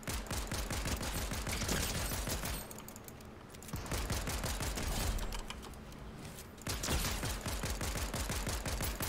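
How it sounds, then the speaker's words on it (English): Rapid pistol fire in the video game Fortnite, long rattling strings of shots in quick succession, broken by two short pauses, loud and dense with no talking. "this pistol is so good"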